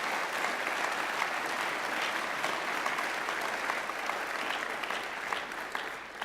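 A Liberal Democrat party conference hall in 2014 fills with sustained applause, a broad, even roar of many hands clapping that carries at a moderate distance with no voices over it.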